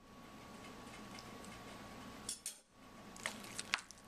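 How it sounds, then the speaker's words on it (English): A spoon clinks a few times against a dish while stirring sour cream into hot potatoes, soft and close in a quiet room with a faint steady hum underneath. "Stir it in while it's nice and hot."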